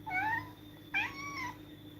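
A house cat meows twice in quiet succession, the second call sharper and louder, over a low steady background hum with no talking.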